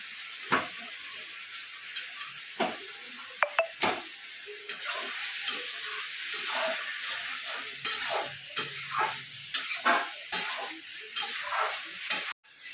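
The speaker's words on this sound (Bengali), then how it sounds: "পেঁয়াজটা ভাজতে দিয়েছি।" Chicken frying with onions in a pan for chicken kosha: a continuous close sizzle broken by repeated clattering stirs and scrapes of a spatula against the pan, with no voices.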